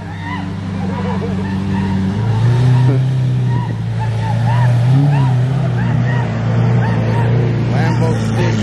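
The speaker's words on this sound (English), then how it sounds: "Another couple cars pulling up." Cars pulling up at a car meet, engines idling and rumbling steadily nearby, with a low growl swelling partway through amid crowd chatter in the background.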